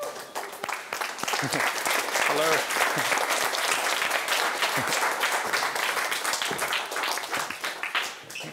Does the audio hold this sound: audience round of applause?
yes